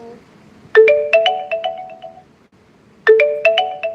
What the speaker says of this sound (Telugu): ఫోన్ వస్తుంది ఎవరే?